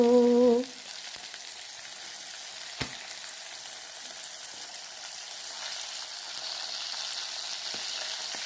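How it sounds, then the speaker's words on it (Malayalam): Mangada fish frying in hot oil, a soft steady sizzle with faint crackles running under the whole stretch, preceded by a brief tonal sound at the start. "കുറച്ച് നേരത്തേക്ക് രാജഹംസം നിർത്തിയിട്ട് ഞാൻ എൻ്റെ മീൻ വറുത്തെടുക്കട്ടെ."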